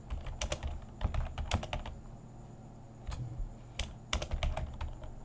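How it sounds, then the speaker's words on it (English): Typing on a computer keyboard by someone working through a beginner coding exercise, with irregular bursts of close, crisp key clicks separated by short pauses. "Now let me type more things."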